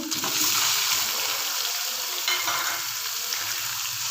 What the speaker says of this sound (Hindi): कलर चेंज होने तक हम इसको भूनते जाते हैं।